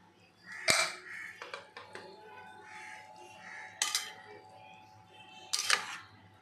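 Pressure cooker being opened in a home kitchen while cooking chicken yakhni pulao gives a few sharp metallic clanks and pot knocks spaced seconds apart, with faint background sounds between them.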